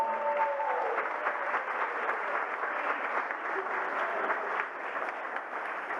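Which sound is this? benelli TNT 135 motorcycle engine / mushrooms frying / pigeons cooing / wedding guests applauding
wedding guests applauding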